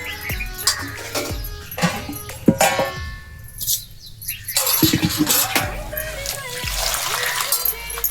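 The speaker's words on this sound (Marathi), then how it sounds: "असं पाणी टाकायचं खालवर करायची धुधू काढायची" Safflower greens are swished and splashed about in water, with repeated sloshing and dripping close by, while birds chirp in the background.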